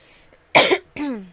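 Two sharp coughs in quick succession, loud and close, the second slightly drawn out with a rasp.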